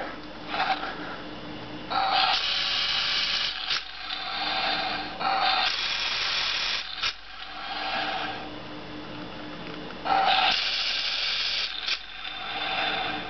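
An electronic Toothless Night Fury dragon toy from How to Train Your Dragon flaps its wings with repeated mechanical ratcheting and gear whirring, coming in several bursts separated by brief pauses, close and fairly loud.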